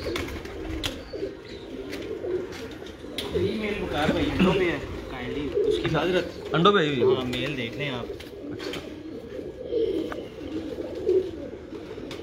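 Pigeons coo throughout a loft, steady rolling calls layered over one another, while someone talks at length over them nearby.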